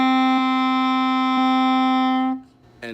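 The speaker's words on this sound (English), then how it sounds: "Our next note is D." A Bb clarinet holds a single sustained D, steady and clear with bright overtones, for about two seconds before it stops and a faint shuffle follows.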